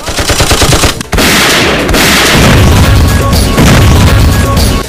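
Loud, dense machine gun fire from a Sindhi telefilm promo, a rapid rattling burst followed by a heavy boom and continued crashing gunfire with echoing impacts, close and overwhelming throughout.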